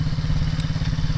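A small MRF 80cc motorbike engine runs close by with a fast, steady pulsing putter as the throttle is held, loud and continuous without speech.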